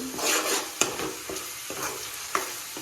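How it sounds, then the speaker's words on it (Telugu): Blended onions frying in a hot pan for a Telugu-style prawn curry as turmeric goes in, a soft continuous sizzle broken by several sharp stirring scrapes and clicks. "మిక్సీ పట్టిన ఆనియన్స్ వేడైపోయినవి సో పసుపు వేసుకుందాం ఇప్పుడు"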